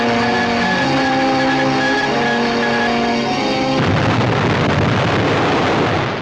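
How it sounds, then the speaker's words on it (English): An H-bomb nuclear explosion in a 1957 newsreel gives a loud, sustained roar, first a dense rumbling with tonal undertones, then abruptly a broad blasting rush that fills the soundtrack and persists to the end. "This is a glimpse of the appalling power unleashed by the nuclear weapon."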